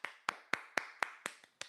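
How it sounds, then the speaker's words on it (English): About eight crisp handclaps from a single pair of hands, evenly spaced in a slow steady rhythm, close and fairly quiet with no voices. "Round of applause."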